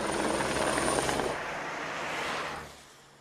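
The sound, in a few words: helicopter flying overhead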